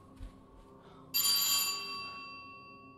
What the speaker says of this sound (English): A doorbell.